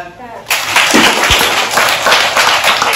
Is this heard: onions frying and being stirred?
no